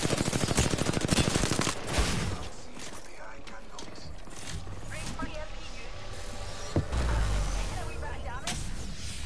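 Rapid automatic gunfire rattles in Apex Legends, a dense burst of shots at first, then scattered mechanical clatter and impacts, loud and close, with voices talking underneath.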